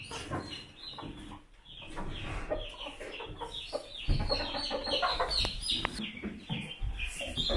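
A flock of ordinary white farm chickens clucks and chatters continuously in a barn, many overlapping calls near and far with occasional louder squawks.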